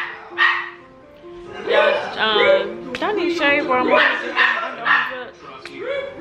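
A small dog barks close by in a rapid series of sharp, high yips and barks that go on through the whole stretch, mixed with a person talking.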